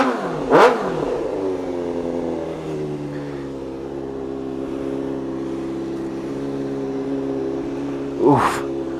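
A 600cc sport bike motorcycle engine accelerates while riding, a steady loud revving drone with rising and shifting pitch and brief bursts of higher revs near the start and end.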